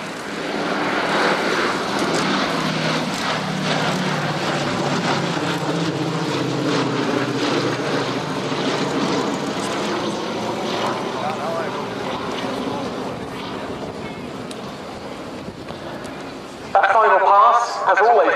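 Vintage B-17G Flying Fortress bomber making a low flypast at an air show, trailing smoke from two engines: a loud, sustained multi-engine piston drone and propeller roar that swells and shifts in pitch over many seconds, with an announcer talking over it.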